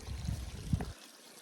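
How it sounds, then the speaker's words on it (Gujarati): Rainwater running from a higher cotton field into a lower one after a downpour: a close, low rushing trickle that cuts off abruptly after about a second. "અહીંયા આગળ ઉપર વાસમાંથી નીચે વાસમાં પાણી જાય છે."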